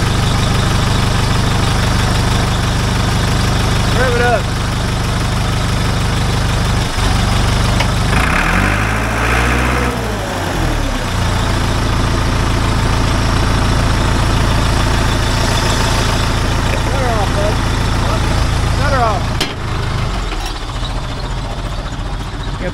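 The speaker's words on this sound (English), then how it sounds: "Rev it up." Heavy equipment at an outdoor auction runs with its engine idling loudly and close by, rising and falling through a couple of revs, with a steady low rumble throughout.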